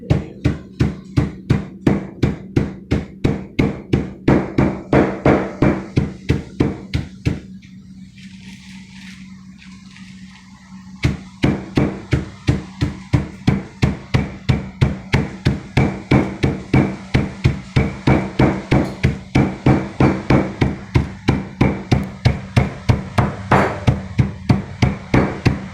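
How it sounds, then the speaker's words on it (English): Loud, steady hammer blows crushing nuts in a fast regular rhythm, pausing briefly for a few seconds before the rapid strikes resume. "if you're going to crush up the nuts, you got to be careful with this hammer"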